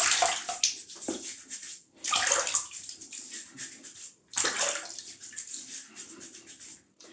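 Tap water running and splashing in a sink while the face is wetted before a shave, in three close bursts broken by brief pauses.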